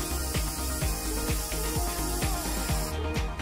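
Waterproofing silicone spray hisses steadily from an aerosol can onto sand, a continuous loud spray with faint rhythmic clicking underneath, ending abruptly near the close.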